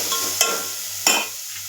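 Carrots fry in a pan, a steady low sizzle broken by two short scraping stirs, close and fairly quiet, with no talk.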